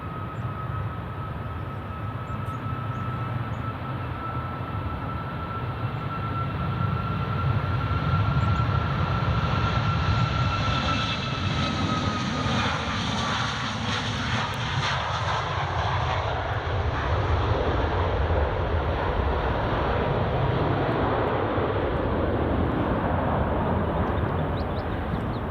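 A Qatar Airways Boeing 737 MAX jet departs, a loud sustained engine roar with a rising then falling whine as it passes, alone without talk.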